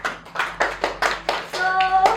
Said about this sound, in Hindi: सो आप लोगों के लिए तालियां